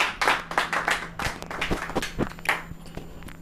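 Scattered, uneven clapping from a small audience at an Urdu poetry mushaira, individual claps close by and distinct rather than a dense roar.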